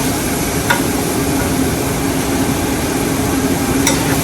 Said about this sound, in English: We've got our mushrooms in here. We're going to saute those up.